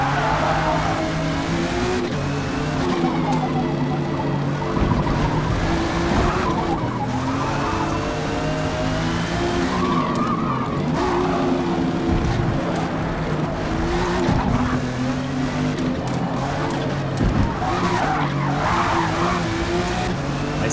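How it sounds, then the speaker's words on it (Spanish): A race car, tuned Audi RS-7 Sportback 2021, skids with sustained tire squeal and revving engine through a final lap, loud and continuous over about twenty seconds, with brief voices now and then. "Ahí se me derrapó bastante el coche"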